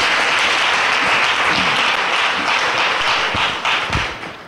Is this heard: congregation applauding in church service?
yes